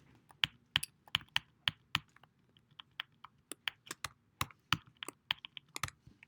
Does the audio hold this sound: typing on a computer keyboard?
yes